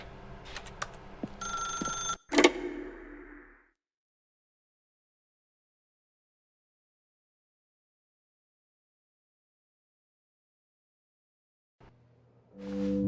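A telephone rings with a few short electronic bursts in the video game The Stanley Parable, followed by a long stretch of silence and a low hum at the end.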